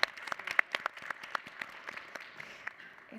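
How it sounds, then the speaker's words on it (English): Faint, sparse clapping from a small audience after poetry readings at a literary anniversary event, distinct individual claps thinning out over a few seconds. "Please give another round of applause for that."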